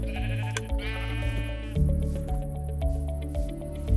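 Sheep in the Minecraft video game bleat repeatedly over a steady background music bed, clear and close.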